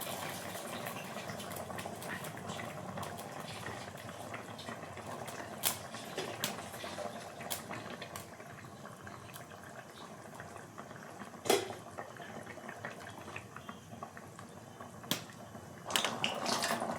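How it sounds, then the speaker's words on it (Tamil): Steady bubbling simmer of Kerala-style fish curry masala in a pot on the stove, with a few sharp clinks of utensils against metal cutting through. "மசாலா கொதிக்க ஆரம்பிச்சிச்சு"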